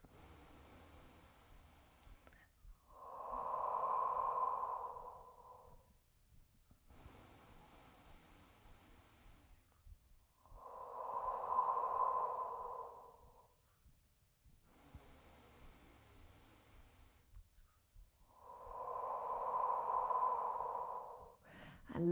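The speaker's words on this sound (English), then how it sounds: "3 deep breaths." Slow, deep breaths during a standing Pilates neck exercise. Three long, close inhale and exhale cycles are heard, each several seconds long, with quiet pauses between them.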